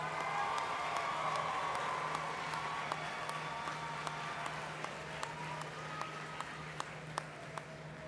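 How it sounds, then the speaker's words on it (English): Graduates at Capital University's 173rd commencement ceremony applaud their families, a large crowd's steady, sustained clapping filling the hall, with a few sharper individual claps standing out. "Please turn and applaud your families, friends, and loved ones, and show your appreciation for their support."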